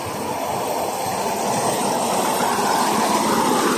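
Motorized rail trolley engine running on a railway, a steady, loud mechanical drone with broad rumbling noise that holds constant and grows slightly over a few seconds, no talking.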